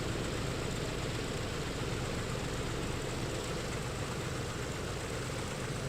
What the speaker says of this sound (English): And now we can see engine number 3 starting.